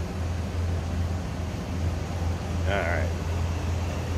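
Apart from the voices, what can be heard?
1987 Chevrolet K10 truck engine running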